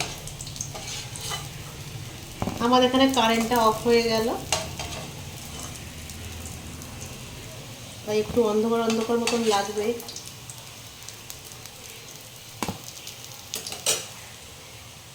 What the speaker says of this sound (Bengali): এভাবে আমি প্রতিটা পিসি কিন্তু ভেজে নেব আর এটাও এখানে বেশ ভাজা হয়ে গেছে